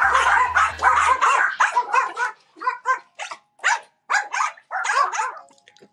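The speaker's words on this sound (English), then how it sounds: "they will still bark at you all day long." Pet dogs bark in a rapid series of sharp, loud, close barks, some of them yips, with short gaps between them and a brief low hum at the start.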